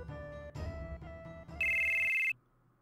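A cell phone ringtone from Final Fantasy VII plays a short melodic tone sequence, ending in a bright sustained high note before cutting off, heard alone and fairly loud.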